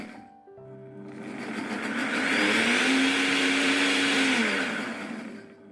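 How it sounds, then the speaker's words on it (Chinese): A high-speed blender whirs up cut cucumber and an egg into batter, spinning up from a short start to a loud, steady roar before winding back down, close and with no voice. "切好之后放入破壁机里面，往里面打入1个鸡蛋，然后盖上盖子，给它打成糊"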